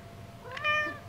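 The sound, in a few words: cat meowing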